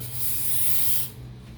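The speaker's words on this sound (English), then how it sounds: "spray some contact cleaner" A single short burst of aerosol contact cleaner sprayed around a motorcycle brake caliper hisses for about a second, close and steady, then stops, leaving a faint hum.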